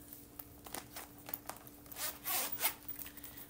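A zipper is pulled in several short, scratchy strokes, close up and quiet, with small rustles between the pulls.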